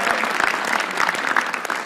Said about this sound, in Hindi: उर्जिता वानी के लिए तालियां प्लीज